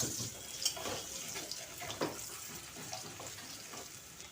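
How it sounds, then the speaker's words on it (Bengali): Potatoes frying with turmeric and salt produce a faint, close sizzle with occasional clinks and stirring scrapes, quiet and without talk. "আলু ভাজার মধ্যে হলুদ লবণ দিয়ে দিলাম আন্দাজ মতো, দিয়ে আলু ভেজে নিচ্ছি।"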